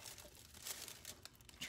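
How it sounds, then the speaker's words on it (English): Thin foil crinkles and rustles in soft, close, irregular bursts as it is handled and pressed, with a few sharper crackles standing out from the quiet handling noise. "I can still stick this foil to the legs if I wanted to"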